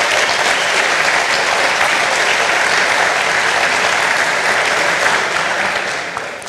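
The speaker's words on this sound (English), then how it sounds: "So I'd like to give them a round of applause for all the great work they've done for us." Audience applause at a Formula SAE Michigan awards ceremony, a steady dense wash of clapping from a large crowd that holds throughout and tapers slightly at the end, with no talk over it.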